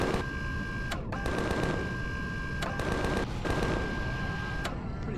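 Ship weapons firing in Empyrion Galactic Survival, a sci-fi space game: steady rapid automatic bursts lasting a second or two each, separated by short pauses, loud and close over a constant droning hum.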